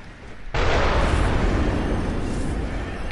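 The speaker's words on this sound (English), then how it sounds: "The explosion itself is what hurts you" A loud explosion in the Bloodborne video game bursts in after half a second of quieter rumble, then holds as a dense, sustained roar that slowly eases over the next few seconds.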